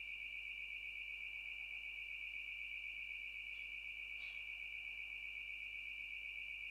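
In the video game Thronebreaker, an alarm sounds as one continuous high, steady tone held for several seconds, fairly faint and unbroken, with no speech.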